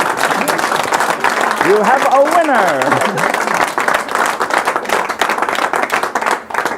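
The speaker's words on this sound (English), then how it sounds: "Bow to your thunderous applause." Audience applause and clapping after a card trick in a magic routine, loud and steady across the whole stretch, with a performer talking over it.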